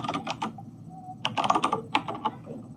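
Typing on a computer keyboard close to the microphone, bursts of quick key clicks separated by a short pause, fairly clear with no talking.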